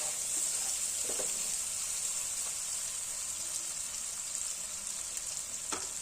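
Ginger garlic paste sizzling steadily in a hot pan for fish curry, a continuous bright hiss with a few soft stirring clicks, close and even, no voices.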